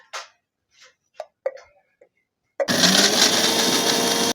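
A mixer grinder starts up abruptly after a few quiet clicks and clatters, then whirs loudly and steadily, grinding cumin, poppy seeds, fennel and coconut pieces to a paste.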